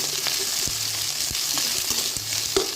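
Onion sautés in hot oil for chicken sheekh kebab, a steady sizzle broken by a few spoon knocks and scrapes against the pan, close and with no talking.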